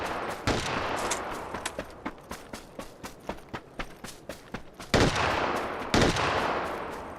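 Unsuppressed gunfire from the PUBG video game, loud sharp shots in an uneven rapid series, a few heavier bursts standing out near the end.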